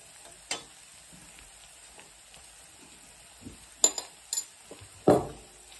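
Black chili powder and spices being stirred in a frying pan for shev bhaji: faint sizzling under sparse, separated scrapes and clinks of a utensil against the pan, with one stronger scrape near the end.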